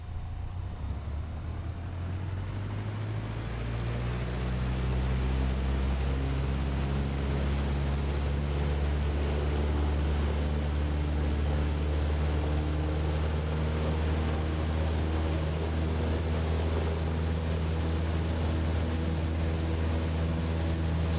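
Cessna 150 engine in X-Plane 12 during the takeoff roll, a loud steady propeller drone whose harmonics climb gradually as power and speed build, alone without talking.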